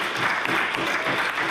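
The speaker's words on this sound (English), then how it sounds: "And thank you for the applause." Members in a provincial legislature chamber applaud during question period, a short burst of dense, even clapping at moderate distance.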